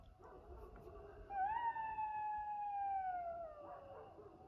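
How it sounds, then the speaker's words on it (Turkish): Several jackals howl near a garden at night, a rising, wavering wail swelling in over a low ambient hiss, holding for a couple of seconds and then trailing off, moderately close with no talk. "Duydunuz benim bahçem etrafında çakallar dolu."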